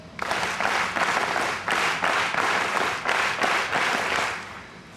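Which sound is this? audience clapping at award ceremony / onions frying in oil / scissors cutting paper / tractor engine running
audience clapping at award ceremony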